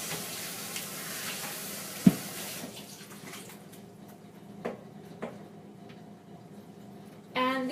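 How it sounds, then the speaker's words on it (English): Water from a kitchen tap runs over cooked beets in a strainer, a steady soft splashing stream with a few light knocks and clinks, louder at the start and trailing off, ending with a brief clatter. "I'm going to give those a little rinse."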